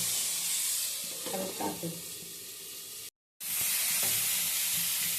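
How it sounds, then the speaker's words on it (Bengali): Eggplant slices frying in hot oil give a steady close sizzle with some stirring and faint voices under it, cut by a brief silent gap before the frying resumes. "এই বেগুন ভাজা ভাজছি, বেগুন তেলে দিয়ে দিলে ঢাকা দিদি"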